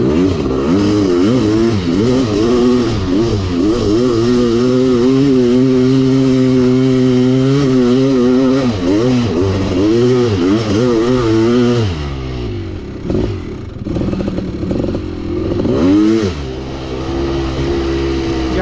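Kawasaki KX500 dirt bike engine revving hard on a hill climb in third gear, close and loud, pitch sweeping up and down in repeated surges before dropping to a rough, uneven idle and sputter.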